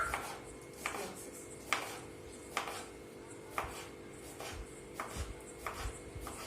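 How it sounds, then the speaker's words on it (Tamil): A knife cuts peeled cucumber for a sandwich, producing a steady series of soft, evenly spaced chops on a board, faint and close. "சீவரும் குக்கும்பர் கட் பண்றோம்"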